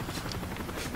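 A helicopter in Call of Duty: Modern Warfare 3 makes a dense, continuous rotor chop and engine roar, fairly loud and steady throughout a single brief second.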